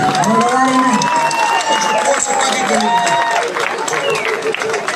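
Town square concert in Berovo, Macedonia, where a crowd cheers and claps under a loud announcer's voice, with shouts and whistles rising and falling across the clip.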